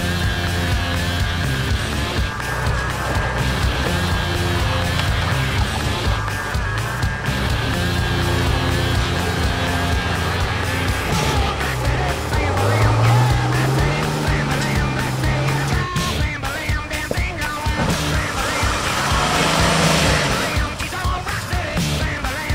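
A 4WD vehicle on an off-road track during an activities day at Hinchcliffes, its engine droning loudly and steadily with rising and falling revs as it crawls over uneven ground.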